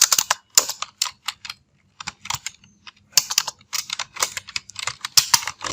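Typing on a computer keyboard while writing in MS Word, with irregular clusters of quick keystrokes broken by short pauses, close and clear with no talking.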